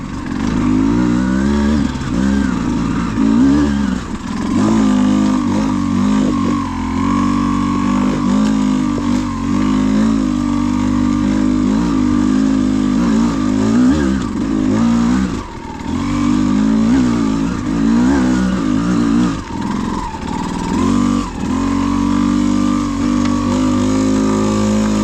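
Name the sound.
Beta X-Pro motorcycle engine climbing hills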